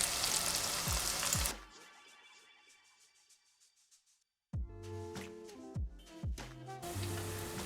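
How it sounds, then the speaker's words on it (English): Falafel deep-frying in hot oil, six at a time, loud close sizzling and bubbling that drops away almost to silence, then resumes with clinks and a busy crackle. "I'll fry them 6 at a time"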